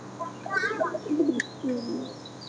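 Pigeons kept for sale coo softly at close range in a few short, throaty phrases, with a brief sharper chirp midway.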